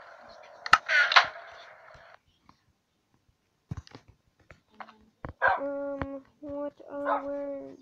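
Dogs in the video game Minecraft give soft whimpers and a few short yips and barks, fairly close and clear, between stretches of a voice talking over them.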